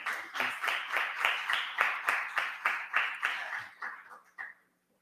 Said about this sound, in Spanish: Así que, por favor, un aplauso.